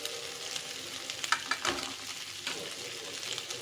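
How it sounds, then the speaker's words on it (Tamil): Potatoes frying with turmeric in a pan, giving a soft, steady sizzle broken by a few brief stirring scrapes, close and fairly quiet, with no voices. "இப்போ நான் உருளைக்கிழங்கு இதை நல்லா நான் ஃப்ரை பண்ணிக்கிறேன்"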